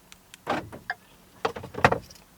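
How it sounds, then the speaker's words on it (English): A Ford F-150's door locks clunk shut by remote fob, heard as a few short mechanical thuds and clicks close by in a quiet setting. "First, we're going to go ahead and lock our doors."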